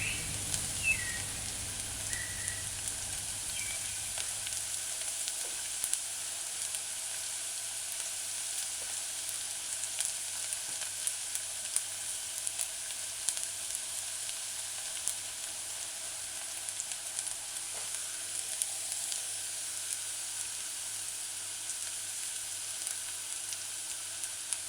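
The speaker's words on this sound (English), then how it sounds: "allow to saute" Mashed garlic and onions sauté in a pan, a faint, steady sizzle with a soft hiss running under the whole stretch and no talk.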